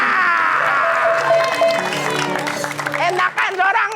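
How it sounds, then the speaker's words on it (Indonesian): Applause and clapping from a crowd form a busy bed beneath loud, overlapping voices that shout and chant throughout. "Tepuk tangan!"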